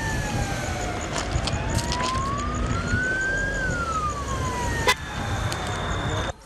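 An ambulance siren at a crash scene in Elazığ, Turkey, where a car hit a trailer, wails in a slow rising and falling sweep over steady road and traffic noise, with a sharp knock near the end.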